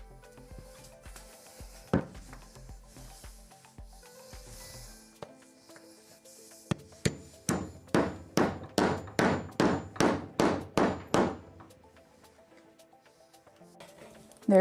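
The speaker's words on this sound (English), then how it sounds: "these nuts get pounded in through the back with a hammer" A hammer drives a T-nut through the back of a plywood panel for a kids' climbing wall, a quick series of about a dozen loud, evenly spaced metallic blows after a few scattered knocks.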